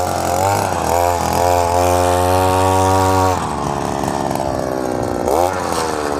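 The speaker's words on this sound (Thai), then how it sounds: "ค่ะสะบัดดินออกนะคะ" A petrol earth auger bores into farm soil to dig a fence-post hole and flings the soil out. Its engine drones loud and close with a steady tone, then the pitch shifts as the load changes partway through.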